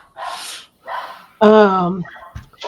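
Dogs give a few close, loud barks. A long harmonic yelp or whine cuts in halfway, followed by short snorts and breathy sounds.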